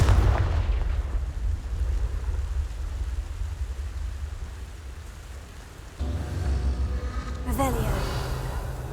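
Fire spell explosions from the Hogwarts Legacy video game, a heavy rumbling blast with crackling debris that decays over several seconds, followed by a second burst and a sharp crackle, loud and close.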